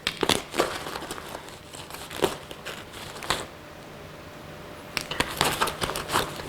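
Packaging of a Black Beard pirate-themed fire starter kit crinkling and crackling as it is pulled open, with bursts of close crumpling and tearing noise separated by short quieter gaps.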